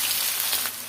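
Fish and onions sautéing in a pan, a steady close hiss of frying with faint crackles throughout the brief moment, no voices.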